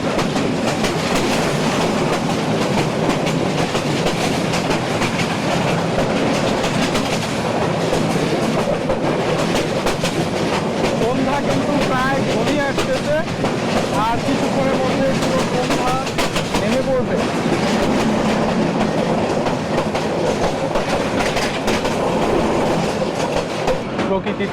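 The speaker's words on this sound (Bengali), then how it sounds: "বাংলাদেশের ট্রেন যাত্রা আসলে অনেক উপভোগ্য" The Bijoy Express passenger train running from Kishoreganj toward Jamalpur in Bangladesh, hauled by locomotive 2926, heard from inside as a loud, steady rumble with rhythmic clickety-clack of wheels over rail joints and occasional squeals throughout.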